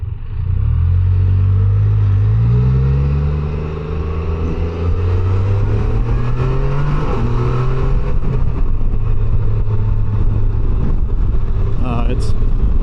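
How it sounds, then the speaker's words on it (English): A 2025 Can-Am Canyon three-wheeled motorcycle engine runs loud and close while riding, its pitch sliding up and down through gear changes and downshifts, with wind rush and riders talking over it. "I like the sound of it on when you downshift on it."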